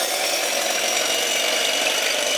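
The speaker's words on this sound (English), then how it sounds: "the next thing we need to do is just whisk up the egg whites" An electric mixer whisks egg whites in a bowl for a turrón mousse, giving a steady, loud, continuous whirring buzz throughout with no pauses or talk.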